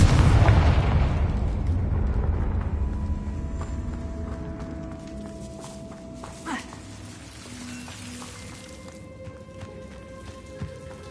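A Confringo fire spell bursts in the Hogwarts Legacy video game, a loud explosive boom at the start that decays into a long rumbling tail with lingering crackles and faint magical tones.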